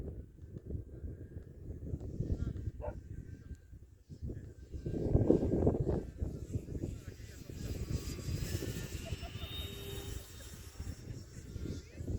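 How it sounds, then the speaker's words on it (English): An E-flite Air Tractor 1500mm RC model airplane flies on a breezy day, its propeller drone faint and steady beneath wind noise and people talking nearby. "Lovely aircraft, the air tractor."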